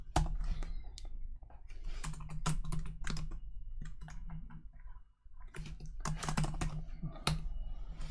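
Close, rapid typing on a computer keyboard goes on in uneven bursts of clacking keys with short pauses between them.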